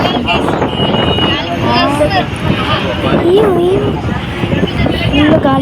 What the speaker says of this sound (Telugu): ఫుల్ గాలి వచ్చింది గైస్